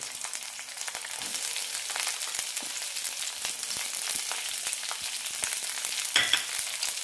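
Ginger, slit green chilies and onion fry in oil in a pan, a steady close sizzle with light crackles and a brief stir near the end; no talking.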